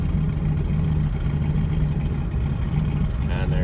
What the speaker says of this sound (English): I'm just coming up to a stop sign here, so you should see it there, shifted down in second